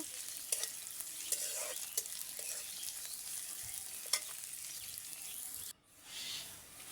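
Chopped onions fry with a steady sizzle in a pan while being stirred, with periodic scraping clicks of the utensil, then a sudden brief drop before the sizzle returns.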